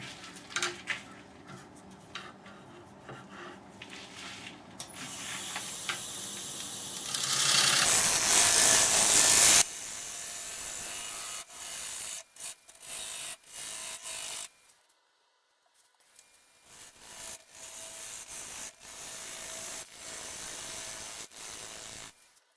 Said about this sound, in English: I'll switch to this 1/2-inch bowl gouge.